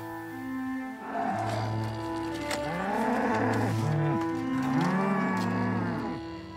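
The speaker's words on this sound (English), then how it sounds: "The Charolais cattle that graze on the castle's meadows" Charolais cattle grazing on the meadows of a French château moo loudly and close by, several long, drawn-out calls overlapping one another across the clip with no talking.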